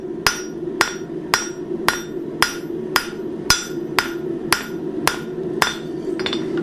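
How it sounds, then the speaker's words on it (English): A blacksmith hammers out a metal leaf, thinning and shaping it. About ten sharp, ringing blows land at an even, steady rhythm. They are close and loud, with a low forge rumble beneath them and no speech. "so as I'm hammering it, it's kind of shaping our material as we go"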